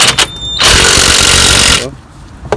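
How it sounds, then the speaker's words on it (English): A wire brush, probably powered, works over the front brake parts of a 2000 Toyota Yaris 1.3 VVT-i, giving a loud, harsh, continuous grinding burst of about a second with sharp clicks before and after. "Brush this up with the wire brush."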